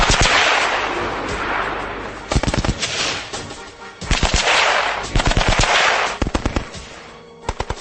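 A machine gun fires at a tree, bursts of rapid, hard-hitting rounds, loud and close, broken by brief pauses and ending in short choppy volleys.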